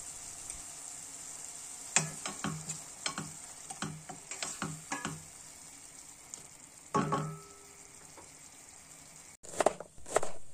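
Onions and tomatoes frying in a pan, a steady soft sizzle running throughout, with intermittent scraping clatters of a spoon stirring in salt and a brief louder clunk near the end.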